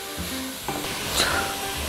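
Tomato paste and garlic roasting in a pan, a soft continuous sizzle with faint stirring scrapes, quiet and close, with no talking.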